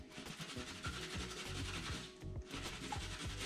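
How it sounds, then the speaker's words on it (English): Scrubbing makeup residue off a motorbike helmet, a quiet, close rhythmic rubbing with repeated strokes at a steady pace and a brief pause midway. "you just scrub that"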